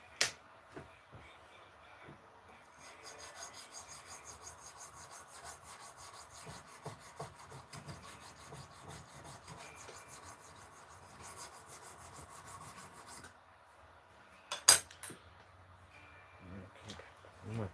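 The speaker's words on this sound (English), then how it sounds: "I want to make sure I'm sanding it straight, like level." Hand sanding of a wood piece indoors, a steady rhythmic scrubbing that runs for several seconds, quiet and close, with a few knocks and a sharp tap near the end.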